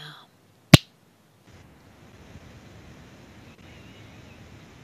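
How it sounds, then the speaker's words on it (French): A single sharp finger snap lands close and crisp near the start of a French esoteric hypnosis session, followed by near-silent room tone. "Alors en un claquement de doigts"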